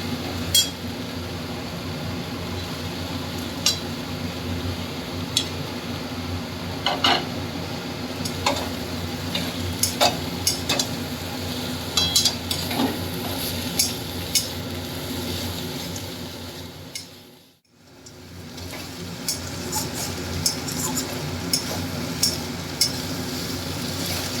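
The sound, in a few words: eggplant added and stir-fried with mustard greens in pan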